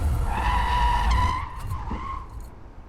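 Tires of a 2023 Mercedes-Benz EQE electric sedan squeal sharply as it swerves through a slalom between cones, a close, tonal screech that rises and then fades into softer scrubbing, with no talk.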